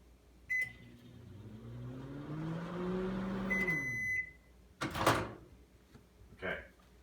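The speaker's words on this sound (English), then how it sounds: "I'm just going to put in for 3 seconds because this microwave will let me do that" A microwave oven hums steadily for a few seconds, with beeps before and after and the door clunking open and shut.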